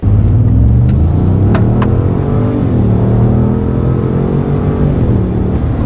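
A Ford F-150 with the 3.5-litre twin-turbo EcoBoost V6 drives along, its engine and road noise forming a steady, loud low rumble throughout with a slight rise as it accelerates.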